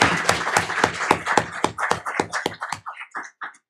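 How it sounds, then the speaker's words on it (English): Round of applause from a board meeting audience honoring district employees, a burst of clapping that thins out and fades over a few seconds. "let's give them, all of our employees, a big round of applause"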